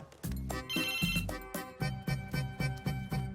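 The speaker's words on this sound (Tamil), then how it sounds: "அவர் இன்னும் ஃபோனே எடுக்கல." Phone ringtone in a Tamil movie scene, a call going unanswered: a bright musical ring pattern repeating in quick regular pulses, loud and close, with no talking over it.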